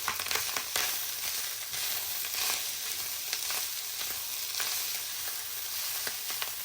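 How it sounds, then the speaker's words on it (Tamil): Pineapple fried rice with leek is stirred and tossed in a hot pan. A continuous sizzle runs throughout, broken by repeated scraping strokes of the spatula in an irregular rhythm. Close and clear, with no talking. "எல்லாத்தையும் சேர்த்து நல்லா நாங்கள் இப்போ கலந்து விடுவோம்."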